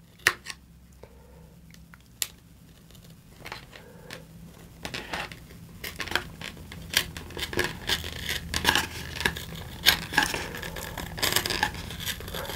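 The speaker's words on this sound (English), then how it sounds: "We're just going to go really slow with our hobby knife and follow the edge of the paper." A hobby knife is drawn slowly along the edge of paper wrapped on a model rocket tube to score it, giving soft, faint, irregular scratches and small clicks.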